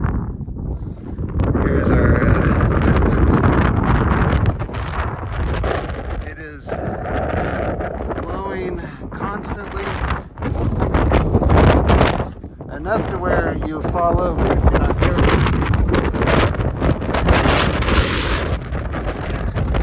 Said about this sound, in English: You can see the wind blowing this stone